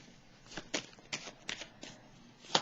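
Playing cards being laid down one after another during a tarot-style card reading, giving a series of crisp, light slaps and slides at a steady, unhurried pace, close and quiet, with no talking.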